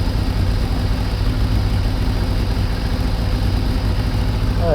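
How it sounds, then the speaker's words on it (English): Kawasaki ZXR750 H1 motorbike engine idling steadily after a carburettor balance, a loud, close, even rumble with no one speaking. "Listen to the bike, it's sounding a lot better."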